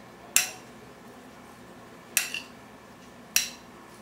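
Metal utensils tap and clink against a bowl while tabbouleh with pomegranate is mixed: three sharp, separate chinks spaced over a quiet background, close and clear.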